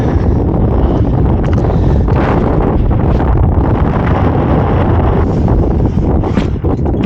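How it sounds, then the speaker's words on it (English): Strong wind buffets the microphone on a rooftop by a new rooftop HVAC unit, giving a loud continuous rumbling roar that never lets up. "Jeez, it's windy."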